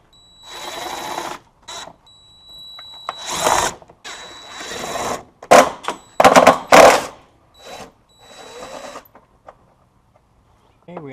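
A power tool backs Torx 27 bolts out of the noise cancellation box on a Polaris RZR XP 900 during an air intake filter kit install, whirring in short loud bursts of varying length with quiet gaps between them.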